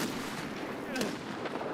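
Gunfire in the Escape from Tarkov video game: a couple of sharp shots ring out over a steady noisy game background, with a brief bright burst near the middle and another shortly after.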